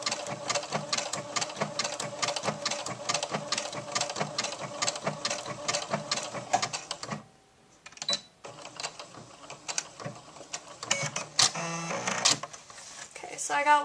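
A sewing machine stitches Velcro onto a doll's tank top in rapid, rhythmic mechanical bursts. It pauses briefly midway, then resumes in shorter runs, with a person talking over it.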